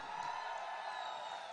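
Large live audience at a motivational event cheering and whooping, a steady dense roar of crowd noise with a broad clapping wash, fairly loud and continuous throughout.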